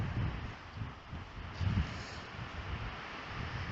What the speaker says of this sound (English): it's kind of gusting all day long too, so there's not really any lulls in the